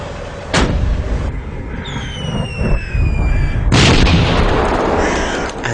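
Bursts of gunfire sound effects in a comedy scene, loud, dense cracks and booms running almost throughout, with a whistling tone sweeping downward in the middle.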